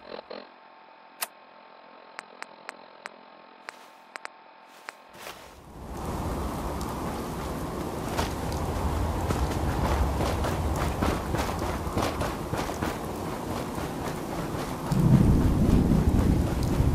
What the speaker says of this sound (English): Rain lets up soon.